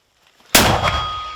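A single sharp, loud shot from a Ukrainian-made MP-120 120 mm mortar bursts out after a near-silent start, followed by a long ringing, rumbling decay.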